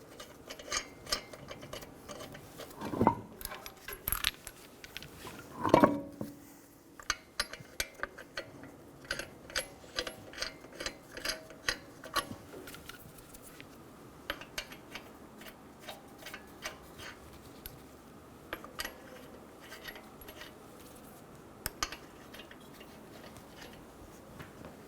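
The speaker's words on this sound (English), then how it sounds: "Install the wheel and get the lug nuts started." Lug nuts being started by hand on a wheel of a 2007-2011 Toyota Camry, heard as scattered close metallic clicks and ticks with a couple of louder clanks, quiet between them.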